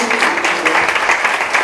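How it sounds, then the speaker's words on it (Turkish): A room of attendees at an e-commerce talk event in İzmir breaks into loud, close applause for the next speaker, with voices mixing into the dense clapping. "Alkışlarla."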